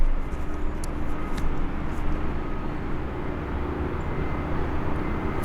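Rotor Riot CL1 freestyle FPV quadcopter with Vanny Style arms flying, giving a steady broadband motor whine and rush that holds at a constant level throughout, with no talking.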